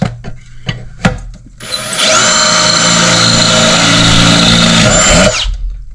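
A power drill fitted with a big long drill bit bores a hole through wood for a rustic sconce, starting with a few clicks and handling noises before a loud, steady whirring grind that holds for several seconds, then winds down.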